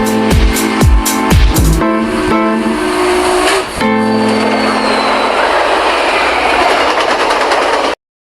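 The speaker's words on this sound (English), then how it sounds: "Union Pacific number 844 was built in 1944 for the Union Pacific Railroad." Union Pacific 844, a 1944 4-8-4 Northern type steam locomotive, running with loud rhythmic chuffs and clanking at first, then a steady rumbling roar of rolling wheels and cars that holds until an abrupt stop.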